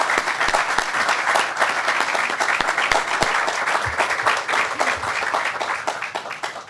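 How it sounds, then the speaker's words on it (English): Audience at an outdoor groundbreaking ceremony applauding, a dense, even burst of many hands clapping that holds steady throughout and begins to thin at the very end, with no talking over it. "So a round of applause for those guys."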